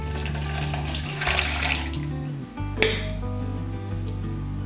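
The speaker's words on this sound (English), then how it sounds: "we're going to strain all off" Panna cotta liquid pours and splashes steadily through a strainer into a container, a continuous watery trickle with a brief clink partway through, close by.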